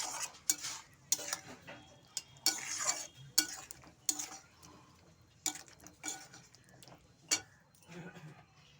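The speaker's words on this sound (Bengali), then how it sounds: "এবার সব মশলাগুলোকে একসাথে ভালো করে কষিয়ে নেব যতক্ষণ না তেল ছাড়ছে" Spice masala with sugar stir-fried in oil, a close series of sharp, irregular scraping and clinking strokes against the pan with a quiet sizzle between them.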